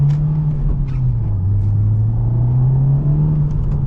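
A 2017–2021 Honda Civic Type R turbo engine droning steadily while driving, a sustained low hum that dips slightly then climbs again, with constant road rumble and no talking.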